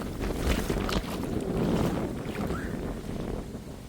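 Steady wind at the Kuyalnik estuary near Odesa buffets the microphone with a loud, continuous roar and rumble, no voices, just gusty noise throughout.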